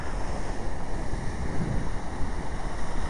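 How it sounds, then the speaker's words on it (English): Ocean surf at a beach on Hawaii's Big Island, waves washing in a steady roar, with heavy wind buffeting the microphone throughout. "Nice and beautiful ocean."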